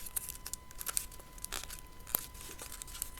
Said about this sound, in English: pinch the triangles together, and then just tape those in place